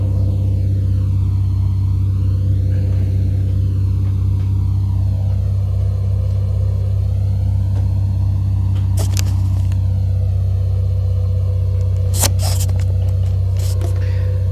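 A light aircraft engine idles in a flight simulator, a steady low droning hum that runs throughout, with a few brief clicks and scrapes on top.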